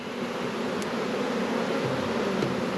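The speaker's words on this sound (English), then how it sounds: "I got a box full of bees still in here." Honey bees buzzing inside a hive box, a close, steady, continuous drone with no voices.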